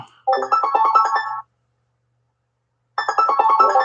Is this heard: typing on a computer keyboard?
no